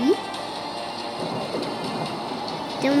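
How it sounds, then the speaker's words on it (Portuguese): Steady rain in a video game, a dense even hiss filling the whole stretch with no pause, with short tonal blips near the start and end. "Galera, a chuva no jogo tá muito tensa."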